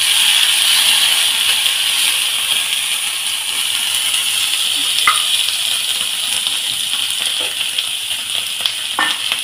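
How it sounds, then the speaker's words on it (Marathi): Potatoes added to a pan with garlic-chili paste and turmeric, as stuffing for idli, frying with a steady loud sizzle and occasional stirring scrapes throughout. "हे बटाटे घालून घ्यायचे।"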